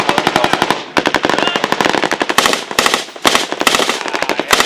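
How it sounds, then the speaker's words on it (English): Rapid bursts of automatic gunfire, sharp repeated cracks in long strings with brief pauses between them, loud and fairly close. "sounds like machine gun fire coming from there"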